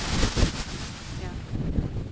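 Wind buffets the microphone at Jetty Park beach in low, rumbling gusts, with surf noise underneath, swelling and easing over a couple of seconds.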